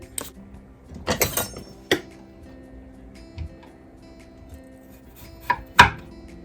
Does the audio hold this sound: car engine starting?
no